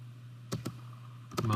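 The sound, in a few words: computer keyboard typing CAD commands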